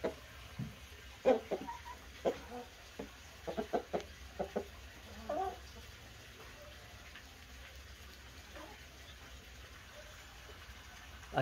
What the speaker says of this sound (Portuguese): Olha só aqui as galinhas.